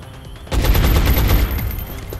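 Gunfire in the XCOM: Enemy Within video game, with a loud, sudden burst of rapid automatic shots that ring out for about a second before tailing off.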